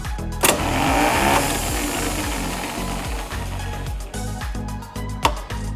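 Bugatti Type 49 starter motor spinning on bench power, a close mechanical whirring hum with pulsing rhythm, starting with a clunk and ending with another click.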